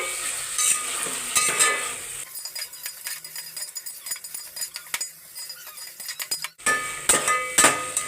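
Tomatoes frying in oil and stirred in a pan for chicken biryani, a loud close sizzle with repeated scraping and clinking of the spoon against the pan, the hiss dropping briefly before surging again.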